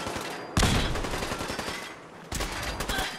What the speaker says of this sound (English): Are they shooting at me? Yes, they are.